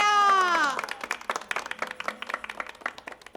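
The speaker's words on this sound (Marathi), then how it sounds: "टाळ्या होऊन जाऊ द्या" Audience applause at a satirical mother-in-law convention, a scattered burst of hand claps that follows a brief held vocal tone, fairly quiet and thinning out.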